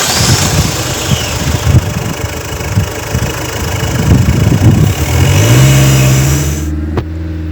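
Diesel car engine held loud and close during an opacity emissions test, churning and knocking under load before settling into a smoother rising tone and a brief idle, with no speech over it.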